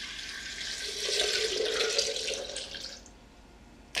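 Roughly four cups of water pour steadily into a container, a close splashing rush that swells then tapers off and stops near the end.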